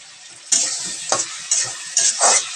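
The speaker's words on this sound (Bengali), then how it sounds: "ভেজে নিই আলু আর মাছ একসাথে দিয়ে দেবো" Potatoes and fish fry together in a hot pan with turmeric powder, a steady sizzle broken by four clattering stirs of a spoon against the pan, close and fairly loud.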